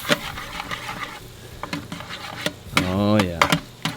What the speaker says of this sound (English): Let's mount our butter. And by mount, I mean swirl it in.